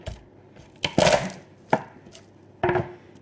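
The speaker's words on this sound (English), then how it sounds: "Okay, 3 cloves of garlic. Crush them." Garlic cloves crushed on a board for a vegan meatloaf, four sharp close knocks spaced unevenly with short pauses, no voices.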